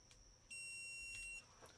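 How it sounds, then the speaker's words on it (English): A dog-training e-collar emits a single steady electronic beep tone lasting just under a second, clear and alone against a quiet background. "hear me in my video say I'm beeping the dogs, this is what it means."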